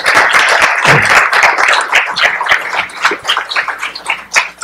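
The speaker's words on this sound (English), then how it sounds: "give him a round of applause and join him to the stage" An audience at a university forum applauds a speaker with dense, loud clapping that holds steady, then thins and tapers toward the end.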